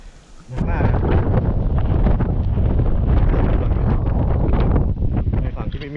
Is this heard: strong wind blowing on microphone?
yes